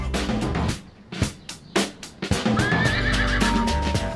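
A horse at a polo match lets out a loud, wavering whinny, preceded by snorts and scattered hoof clops on the ground, close and clear.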